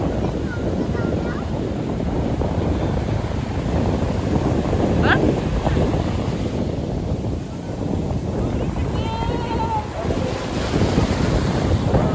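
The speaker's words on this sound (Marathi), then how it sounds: "मस्त पाण्याला उखाण आलेलं आहे" Ocean waves surge and wash continuously onto a North Goa beach, with heavy wind buffeting the microphone and faint voices in the background.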